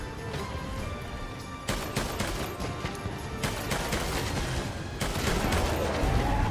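Rapid gunfire from a gun in a video game, a dense burst of repeated shots over a loud continuous background, with sharp volleys standing out at intervals and no talk.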